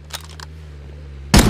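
A single loud, close gunshot in the video game Rust, a sharp burst near the end following a few faint clicks over a steady low hum.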